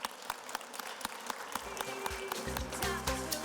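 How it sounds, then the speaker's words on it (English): An awards-ceremony audience claps in a round of applause, sharp individual claps standing out over a growing bed of crowd clapping and low hum, with no talking over it. "Let's give him a round of applause."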